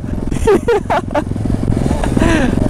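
A Kawasaki Z900 motorcycle engine idles on a road with a steady, low droning hum, partly masked by loud nearby speech.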